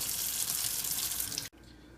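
Running tap water pours steadily into a sink as small rubber controller pads from a Sega Genesis gamepad are rinsed, a continuous close hiss that cuts off abruptly near the end, leaving quiet room tone.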